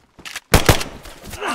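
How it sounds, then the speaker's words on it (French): Loud close shotgun blasts in DayZ, a couple of sharp booming reports in quick succession aimed at a player's legs, followed by lingering game noise. "J'ai tiré dans les jambes, mais il continue."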